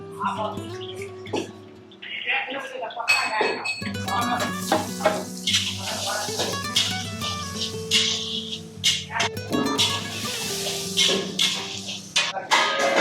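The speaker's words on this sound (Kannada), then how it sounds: "ಜೀರಿಗೆ ಸಾಸಿವೆ ಫ್ರೈ ಆಗಿದ ನಂತರ ಈಗ ಈರುಳ್ಳಿ ಹಾಕ್ಕೊಂತಾರೆ." Onions drop into a pan of hot oil with fried cumin and mustard seeds, setting off a bright sizzle that builds and keeps crackling, broken by stirring and clanks of utensils over a busy, music-like background.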